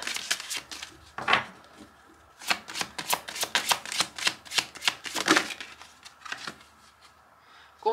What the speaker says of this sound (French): Je vais vous tirer une autre carte quand même.